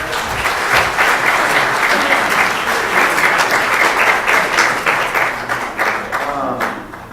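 An audience at a city council candidates forum breaks into loud, close applause, thick rapid clapping with a few sharper claps standing out, fading a little near the end.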